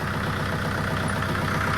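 A tractor engine idles steadily at close range in a village repair garage, a continuous low rumble with no pauses and no voices.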